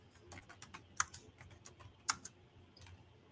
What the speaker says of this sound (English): No, I was typing, y'all.